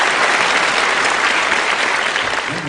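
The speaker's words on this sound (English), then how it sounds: "Please give a big round of applause for Session 1 speakers and moderator for today." Audience at an Islamic investment forum claps for session speakers and a moderator: dense, loud, sustained applause from a full room, with no voices over it.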